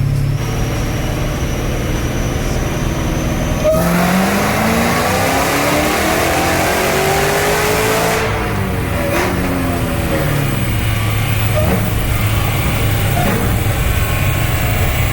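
A supercharged 426 Hemi in a Hellcat roars through a dyno pull, climbing steadily in pitch to a loud peak before the throttle lifts and the engine falls back to a rumbling idle.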